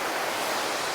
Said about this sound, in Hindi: और क्या शोर है इस नदी का,